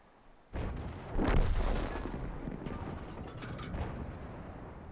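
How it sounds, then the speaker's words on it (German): Single heavy tank cannon shot in World of Tanks, a sudden loud boom followed by a rolling rumble and mechanical clanks of the gun and tracks fading over a few seconds. "Schuss raus, 839 und die Kette ist auch dahin."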